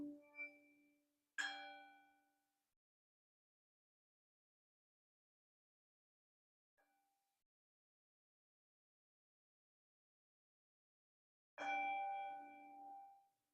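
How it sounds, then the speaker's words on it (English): A meditation bell rings out clearly with a bright, sustained resonant tone, followed by a second strike that decays slowly, a faint tap in the quiet, and a final strong ring near the end, all alone in silence. "With each breath, follow the sound of the bell."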